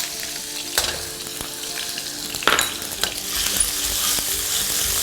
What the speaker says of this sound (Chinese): 这里是去了皮的五花肉，我们先下锅炒一炒